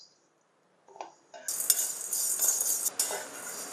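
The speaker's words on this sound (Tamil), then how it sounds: "இதை நான் இப்போ ஒன்னொன்னா கடாயில வறுக்கிறேன்" Chana dal and moong dal being dry-roasted in a kadai, heard as close metallic scraping and rattling of the lentils against the pan, starting after a quiet moment and continuing without speech.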